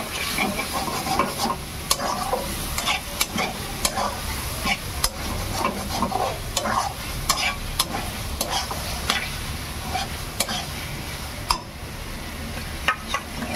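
Masala spices frying in oil in a pan with a splash of water added, a steady close sizzle broken by repeated sharp scrapes and taps of a spoon stirring against the pan throughout.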